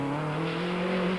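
A Toyota Conquest rally car powers through a stage of the 1993 Swartland Rally, its engine holding a loud, steady drone close by with a slight rise in pitch.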